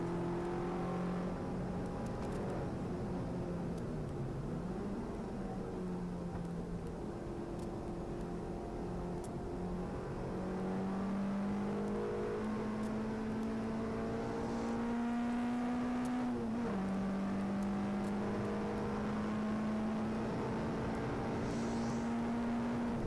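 Peugeot 106 race car accelerating hard around Goodwood Motor Circuit, its engine note climbing steadily through the gears with brief dips at each shift, loud and continuous from an onboard position.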